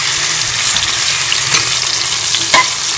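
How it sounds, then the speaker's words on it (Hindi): Chicken fries in cream and ghee in a karahi, giving a loud, steady sizzle with occasional stirring scrapes throughout and no talking. "इसमें हम चिकन डाल के इसको फ्राई कर लेंगे।"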